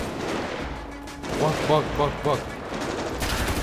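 Gunfire in GTA 5 with the LSPDFR police special operations mod: several rapid shot bursts ring out in clustered volleys, fairly loud, over background game noise, with a voice briefly speaking.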